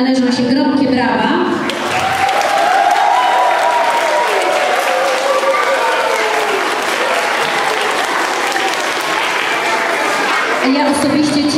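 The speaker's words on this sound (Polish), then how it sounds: "Myślę, że wszystkim wykonawcom należą się gromkie brawa." An audience at a primary school carol concert in Leszno breaks into loud, sustained applause for the performers, filling the room throughout, with voices audible beneath it at the start and end.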